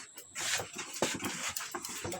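A dog at a grandmother's house in the Philippines, with short whimpering and yipping sounds repeated through a busy, cluttered stretch.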